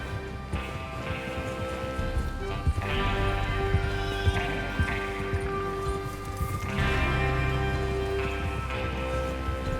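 Steady hoofbeats of galloping horses in Red Dead Redemption 2 clatter on and on beneath a musical drone, with faint snorts and rustling mixed into the continuous rhythm.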